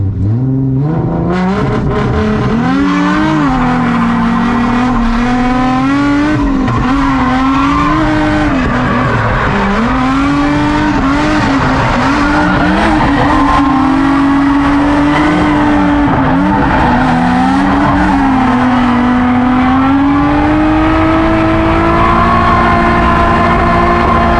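A drift car entering a transition at a drift training day, loud engine revving rising and falling continuously with tire squeal and skidding, close and sustained throughout without talk.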